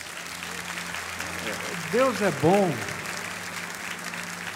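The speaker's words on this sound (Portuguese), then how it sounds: "Vamos aplaudir, não é?" A church congregation claps in a steady, soft wash of applause, with a voice speaking over it in the middle.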